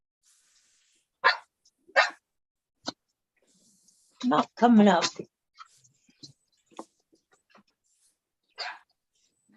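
A dog barks a few sharp times over a Zoom call, loud and close, including a quick cluster of barks, with people speaking briefly around the barks and scattered clicks between.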